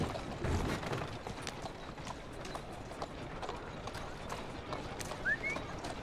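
Horse hooves clip-clopping at a steady trot in the video game Assassin's Creed Syndicate, fairly quiet and continuous, with faint game background noise.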